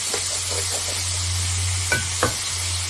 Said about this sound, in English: I'm just going to let this sear in the pan, which is doing beautifully